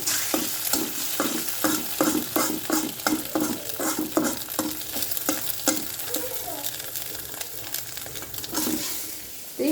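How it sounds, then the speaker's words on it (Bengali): Eggs fry in a pan with a bright, continuous sizzle, broken by quick rhythmic scraping strokes of a spatula that then ease off as the sizzling carries on. "তিহানের জন্য ডিম ভাজি করতেছি।"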